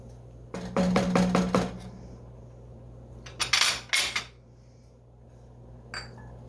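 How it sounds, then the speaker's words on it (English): A spoon stirs grains into beef and vegetable soup in a pot, giving a quick run of clinking scrapes against the metal, then a second cluster of clatters and a final faint tap over a low steady hum, with no voices. "I'm going to stir that in."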